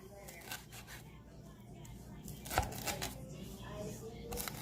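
A knife chops vegetables for pico de gallo on a board in quick, uneven taps, fairly quiet and close, with a low hum running underneath.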